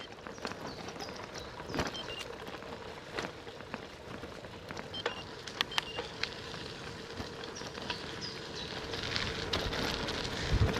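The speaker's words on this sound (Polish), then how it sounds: "Ależ dzisiaj wieje strasznie." Strong wind blows on a stormy day, making a continuous rushing, buffeting roar with scattered clicks and knocks, steady throughout and rising a little toward the end, with no voices.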